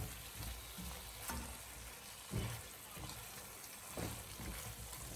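Aubergine and chickpea bhuna with added water is stirred in a pan, a steady low sizzle and simmer with soft scraping stir sounds running throughout.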